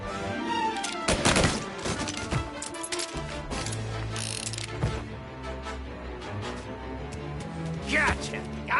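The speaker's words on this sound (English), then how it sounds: "Gunshots heard." Gunfire in the Mafia remake game, a chaotic firefight with sharp shots and bursts scattered among loud game music and effects, with voices shouting over the action.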